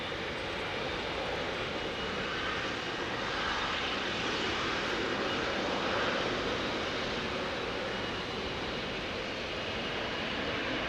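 A Boeing 777 jet airliner at Heathrow, heard close to runway 09R, gives a steady broadband engine roar that holds at an even level for about eleven seconds, with no voices.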